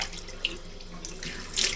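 Tap water runs into a sink while the face is rinsed with cold water after shaving, a close, steady splashing stream with a louder gush near the end, no talk.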